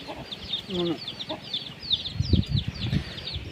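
Several chickens cluck and chatter nearby in short, uneven bursts, with higher chirping calls layered over lower clucks throughout.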